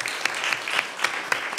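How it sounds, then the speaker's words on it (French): Brief studio applause from a French television football talk show audience, a steady wash of hand claps with a few sharper peaks, moderately loud and without voices. "Très bien dit et ça s'applaudit"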